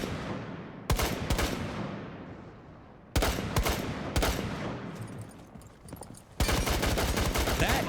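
Gunfire in the Rainbow Six Siege video game: several sharp, loud bursts of shots at irregular intervals, each trailing into a reverberant decay, with a heavier sustained volley near the end.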